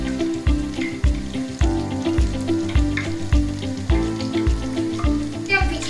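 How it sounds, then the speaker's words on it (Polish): Cheese doughnuts crackle and sizzle steadily in hot oil, a constant bubbling hiss with soft, regular thumps beneath it. "oponki nam ładnie rosną podczas smażenia"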